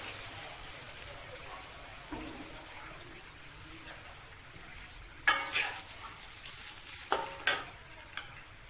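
Tofu and bean sprout stir-fry sizzling in a pan, a steady low frying hiss broken by a few sharp bursts of splashing sizzle as a little water hits the hot pan.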